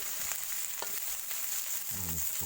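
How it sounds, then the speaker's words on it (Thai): Fish stir-fried with curry paste in a pan gives a continuous sizzle with a few stirring scrapes, heard close and without talk. "แล้วก็ตามไปด้วยพริกแกงครับก็ลงไปครับผม ผลให้มันเข้ากันดีครับ"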